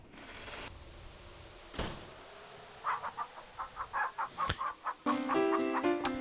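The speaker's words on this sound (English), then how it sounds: "Let's go feed the chickens." Chickens clucking in the King's Quest 3 Remake video game, a run of short bright clucks in the middle with a few sharp knocks and a burst of game music near the end.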